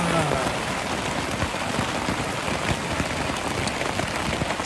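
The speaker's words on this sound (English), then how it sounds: "I don't know if you can even hear me over the sound of the rain." Steady rain drumming on a tent while camping beside a main road behind a car dealership, a dense, continuous patter of drops close overhead with no voices.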